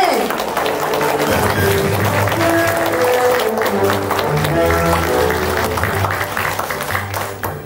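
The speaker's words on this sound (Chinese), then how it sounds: "咱即摆用热烈掌声来欢迎黄导演" At a Taiwanese-language theatre troupe's public performance, an audience gives loud, sustained applause to welcome the director, a dense continuous wash of clapping with some faint tonal sound running underneath.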